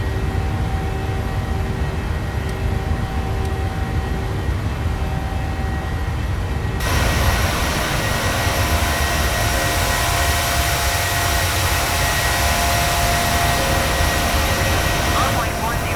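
Continuous roaring drone of Boeing 737 jet engines climbing after takeoff in a flight simulator, a steady broadband rush that grows noticeably louder partway through, with a voice talking over it.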